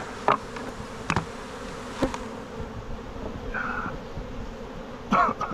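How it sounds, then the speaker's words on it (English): Constant buzzing of a swarm of honeybees around a hive during a honey harvest, with a few sharp clicks and knocks scattered over the hum. "there's bees everywhere"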